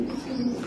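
A domestic pigeon of an exclusive pedigree line, currently moulting, gives a soft, low, close coo with a short, steady hum.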